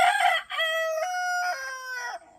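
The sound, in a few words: roosters crowing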